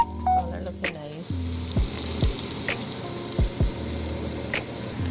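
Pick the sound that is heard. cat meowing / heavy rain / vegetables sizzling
vegetables sizzling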